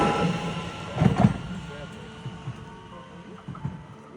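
A train runs with its rumble heard from inside a carriage, a steady low drone broken by a few louder knocks and clatters near the start, with faint voices in the background.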